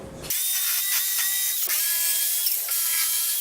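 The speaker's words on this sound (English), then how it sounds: "this is another task that I think I can just do with the jigsaw" Jigsaw cutting through pallet boards, a loud continuous buzzing whine that starts abruptly and holds steady close up, with slight pitch dips as the blade loads in the wood.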